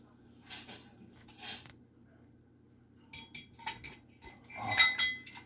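Metal lids and rings are fitted onto glass jars of dandelion jelly, giving a few light, close clinks and taps in an otherwise quiet room.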